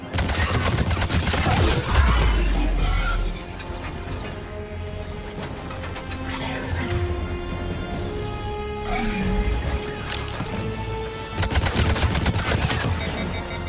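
Rapid gunfire in Mass Effect, heavy overlapping bursts loud at the start, a quieter stretch of scattered shots and mechanical clatter, then another loud volley near the end.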